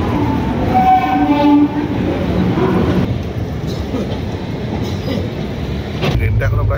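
Howrah Puri Superfast Express pulling away, a loud close rumble of rolling railcars with a tonal whine early on, steady throughout, with people talking faintly in the carriage.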